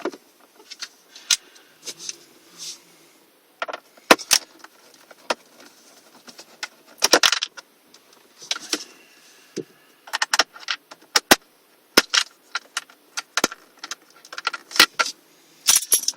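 Small metallic clicks, scrapes and rattles of screws and a tool come from removing a 2001–2007 Mercedes C-Class car stereo. The sharp, close taps arrive in irregular bursts between quiet pauses, and no one speaks.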